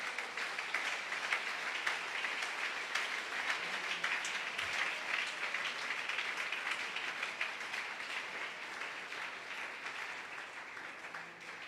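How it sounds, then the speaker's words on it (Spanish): A church congregation gives sustained applause, a steady, dense patter of many hands clapping at moderate volume that stays even throughout, with no talking over it. "Denle ese aplauso a mi Cristo."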